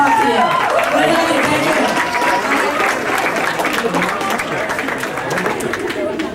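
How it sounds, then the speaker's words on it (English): Sustained audience applause fills a conference session at an ORL sex-education boot camp, a dense, steady wash of many hands clapping at close range, with crowd murmur mixed in throughout. "Give her another round of applause"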